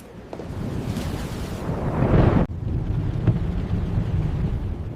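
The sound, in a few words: strong wind in a storm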